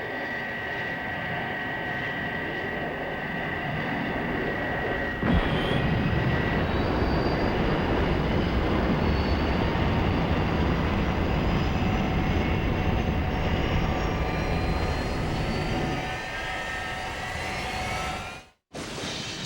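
Fireflash airliner engines from the Thunderbirds TV show as it loses height on approach, a steady loud jet roar with a whining tone lasting throughout, swelling slightly midway before fading near the end.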